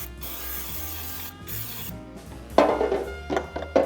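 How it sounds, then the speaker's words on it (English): Avocado oil cooking spray is sprayed in several short hissing bursts close to the microphone while cooking with an air fryer, with quieter kitchen handling sounds before the bursts. "I'm going to use some of my avocado spray."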